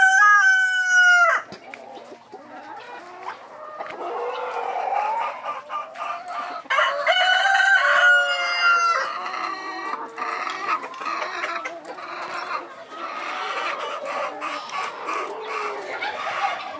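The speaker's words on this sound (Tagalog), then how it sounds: "Sa manok na puti." A white chicken crows loudly at the start, a long harmonic call that cuts off sharply, followed by busy clucking and squawking from the flock, fairly close and continuing without pause.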